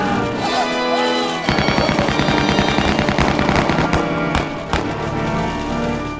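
Machine gun hammering away at night across no man's land in a wartime battlefield, a loud rapid string of shots in bursts with brief pauses, booming close and steady.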